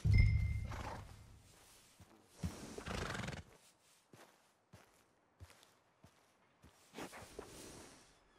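A horse in the video game Red Dead Redemption 2 lets out a loud, close whinny at the start, then shifts about with snorts and scattered hoof clops and steps that fade into quieter intermittent thuds.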